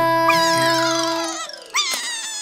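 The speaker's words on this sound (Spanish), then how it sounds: "Humpty Gruñón empezó a llorar" A cartoon character cries in a wailing, howl-like voice, a rising and falling tonal sob followed by a second short sharp wail, loud and alone.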